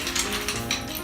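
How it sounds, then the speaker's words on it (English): Ice going into a mixing vessel for a classic 1920s martini cocktail, a brief rattling clatter of cubes knocking together, close and moderately loud, with no talking. "So we're gonna go ahead and add our ice into here"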